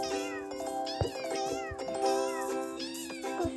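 Cartoon cats from the Merge Cats mobile game meow repeatedly in clear, tuneful, overlapping cries that rise and fall, with soft chime-like game tones behind them and no talking.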